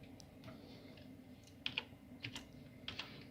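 A password is tapped out on a computer keyboard, several quiet, close key clicks in small irregular bursts over a faint room hum.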